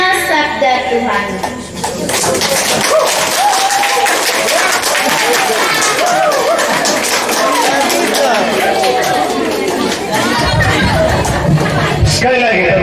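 Audience at a primary school scripture and psalm reading contest clapping together, a steady sustained round of applause mixed with crowd chatter and babble throughout.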